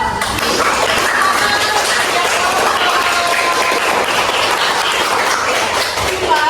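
Applause after group presentations in a classroom, a steady, fairly loud burst of many people clapping continuously throughout.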